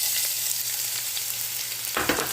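Coated pieces frying in oil with chopped green chillies, a steady close bright sizzle with a sharper burst of crackling near the end.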